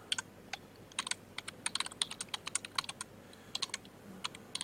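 Keys clatter on a computer keyboard as a code string is typed, a quick irregular run of close, crisp clicks with brief pauses, alone over a faint room hum.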